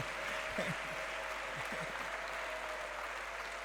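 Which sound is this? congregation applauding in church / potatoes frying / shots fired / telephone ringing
congregation applauding in church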